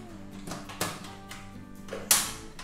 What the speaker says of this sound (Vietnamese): Bây giờ bật ga lên.